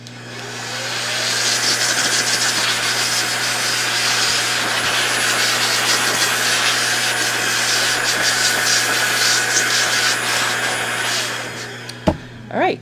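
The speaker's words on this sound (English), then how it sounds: "you could use the blower to finish cleaning your filter" A strong blower runs steadily for about eleven seconds to clear lint from a serger's filter, giving a loud continuous rushing whoosh that cuts off near the end, followed by a couple of small knocks.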